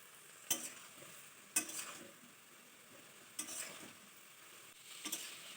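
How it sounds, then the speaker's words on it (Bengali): Bottle gourd stems frying with turmeric powder in a pan, stirred with a few sharp scrapes of a spatula over a faint, steady sizzle; no talk. "হলুদের গুঁড়ো দিয়া দিতেছি, নাড়াচাড়া করে নেব।"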